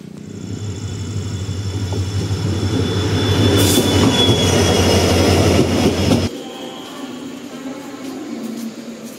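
A night passenger train runs with a loud, close, rumbling roar and clatter of wheels, then the sound suddenly drops to a quieter, muffled hum.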